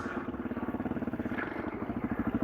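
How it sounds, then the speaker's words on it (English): A small dirt bike, a Kawasaki KLX110 or Suzuki DRZ400, runs with a loud exhaust, its rapid pulsing thump steady and close while being ridden off-road. "My exhaust is too loud."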